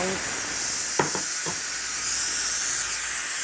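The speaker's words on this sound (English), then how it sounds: "I'm going to let the steam out." Steam hisses steadily out of a pot of Filipino beef soup (nilagang baka), loud and continuous, with a few brief clinks near the start.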